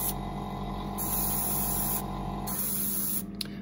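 Undercoat paint sprays steadily from an airbrush or rattle can, a close, continuous hiss running in long bursts with brief shifts in tone between passes.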